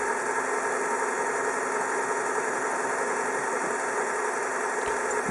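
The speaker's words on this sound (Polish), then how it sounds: "Komputer automatycznie dodaje tutaj gazu. Nikt ręcznie nie wymusza zwiększenia obrotów." A Renault car engine with its SU1 automatic gearbox, running at raised revs that the computer sets itself during a dynamic gearbox oil change; a steady, close mechanical drone with constant vibration, no voices.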